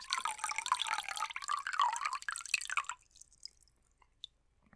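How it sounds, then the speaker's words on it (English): Water splashes and trickles for about three seconds, then falls to a few scattered soft drips in near silence, heard close up without any voices. "clean up the water that I've spilt"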